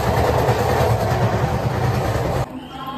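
Crowded passenger train on a rail journey to Roha, India, rumbling loudly with a steady low rattle of wheels on rails, the din cutting off abruptly near the end to a quieter interior.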